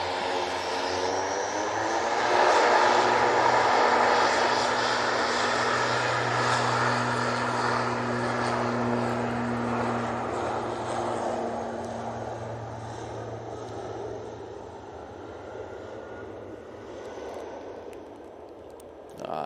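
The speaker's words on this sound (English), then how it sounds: "It's nice of them to send my plane" A fixed-wing airliner at Manchester Airport roars loudly with sustained engine drone and whining tones, holding strong for several seconds before slowly fading as it passes; no talk.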